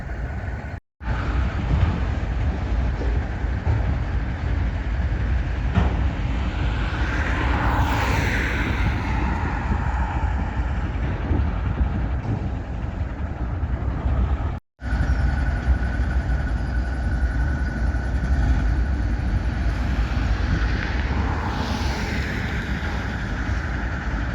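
Southbound freight train rolling past in Wisconsin, a long continuous rumble of cars with rail squeal and rising horn-like tones, loud and steady throughout, briefly cut twice.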